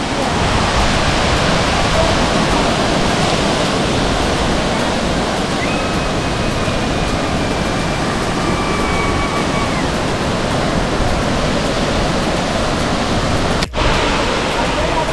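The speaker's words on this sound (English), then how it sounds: "So over here on the other side, they have like a little waterfall." A small waterfall pours into a swimming pool in Valencia, Philippines, a loud, unbroken rushing roar of falling water that fills the scene for about fifteen seconds.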